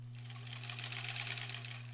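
A sewing machine stitching quilt border pieces together, running steadily with a rapid mechanical chatter over a low motor hum, close and moderately loud.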